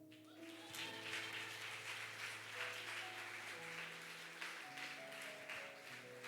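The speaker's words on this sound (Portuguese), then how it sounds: "E você aplaude ao Senhor" Congregation applauding during a Lord's Supper church service, a steady wash of clapping running the whole time beneath sustained keyboard chords.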